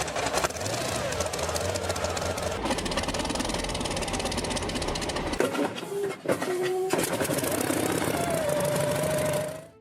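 A large radial piston engine of a Kamov Ka-26 helicopter starting up roars loudly and steadily, with rough knocking and sputtering midway before settling into a sustained drone that cuts off at the end.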